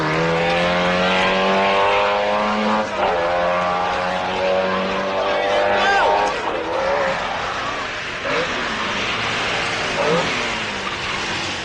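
Rothmans Rally Team rally car driven by Vatanen, engine droning loud and steady with shifting pitch, tyres squealing in places, under a commentator's voice.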